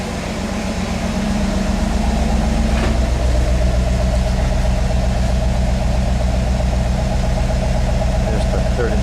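A 1993 Chevrolet Camaro Z28 Indy Pace Car engine idles after a cold start, a steady low rumbling drone that holds evenly throughout at close range.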